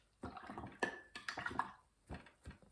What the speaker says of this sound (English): now once that's done, you can rinse off your brush